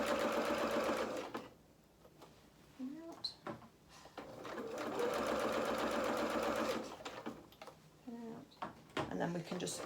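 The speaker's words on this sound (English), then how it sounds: "So I'm just going to follow the drawn line, just putting that in the middle of the presser foot, turn my speed up a little bit." A sewing machine stitches fabric along a drawn line in two fast, steady bursts of rapid whirring, with short pauses between them filled by handling noises and a voice speaking.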